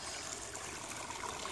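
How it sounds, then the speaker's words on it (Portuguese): A small stream flows through a park, a faint, steady trickle and rush of water heard at a distance with no voices. "Isso aqui é córrego, né, amor?"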